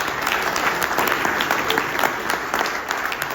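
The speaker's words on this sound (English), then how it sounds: "big round of applause for" Audience applause after a speaker invites a round of applause, dense steady clapping filling the whole stretch at an even, fairly loud level with no break.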